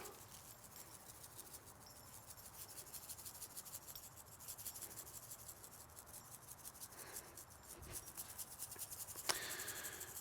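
Hands rub a seasoning rub onto a wagyu tri tip in soft, close, continuous scraping and patting strokes, faint and without talk, with a small tap near the end.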